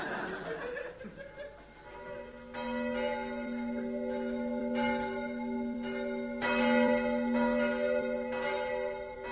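Church bells ring for New Year in repeated resonant strokes with long humming overtones, steady and fairly loud, while people chuckle and talk over them.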